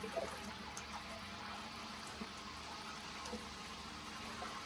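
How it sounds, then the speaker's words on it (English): Water running from the water port of a 300L vacuum emulsifying mixer, a steady faint broadband rush that holds evenly throughout with small splashy spikes. "And now we can test the water port here."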